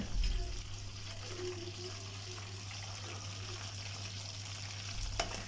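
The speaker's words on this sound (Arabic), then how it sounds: "وبشوح الكبد والقوانص الاول في الزيت، وبقلب كده القوانص لحد ما تتشوح معانا تشويحة كويسة في الزيت" Chicken liver and gizzards sauté in oil, giving a quiet, steady sizzle over a low background hum, with a couple of soft stirring knocks near the start and end, and no one talking.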